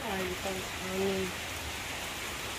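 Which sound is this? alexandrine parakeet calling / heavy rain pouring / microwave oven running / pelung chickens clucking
heavy rain pouring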